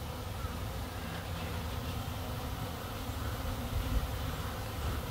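A large crowd of honeybees hums steadily at the entrance of a hive, with heavy traffic going in and coming out; the dense buzz stays close and even throughout, with no talk.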